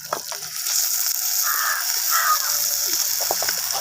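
Chopped onions fry in a pan, a continuous close hiss of sizzling that holds steady throughout, with a few faint clicks underneath.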